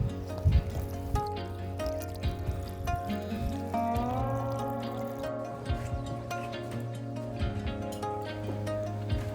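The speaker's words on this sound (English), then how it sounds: "While the water makes it through and drains out" Rainwater fed by gravity trickles through filters and drains out of a blue RV hose, a faint, steady flow with scattered small splashes and drips.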